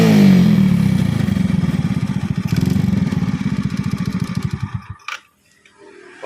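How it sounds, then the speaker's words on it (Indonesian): Motorcycle engine with a freshly cleaned and tuned carburetor, throttle twisted into a loud rising rev, then settling into a rhythmic idle pulse that thumps ever more slowly before cutting out, ending with a sharp click. "sekarang kita coba betot gasnya ya"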